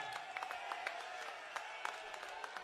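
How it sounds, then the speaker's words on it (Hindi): Applause at a ceremony honouring devotees of Lord Ram in Kurukshetra, with a chief minister present: faint, distant crowd clapping, steady and diffuse with scattered sharper claps throughout. "आपकी जोरदार तालियां होनी चाहिए"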